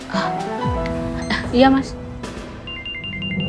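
A mobile phone ringtone sounds indoors as a repeating electronic tone pattern, playing under and after a brief exchange of speech, steady and moderately loud.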